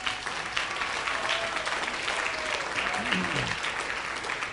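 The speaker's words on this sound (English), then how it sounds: "if you could give her a big round of applause" Sustained audience applause at a network marketing gathering, a dense, steady wash of clapping with a voice speaking over it.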